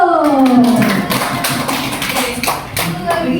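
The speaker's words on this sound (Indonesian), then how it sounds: "tepuk tangan dulu" Hands clap in a small group, scattered taps and slaps running through the clip with a voice and other voices talking over them nearby.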